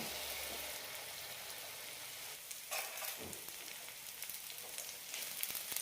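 Semolina unniappam batter fries in oil in the wells of an appam pan over a medium flame, giving a steady, close, moderate sizzle with faint crackling and no voices.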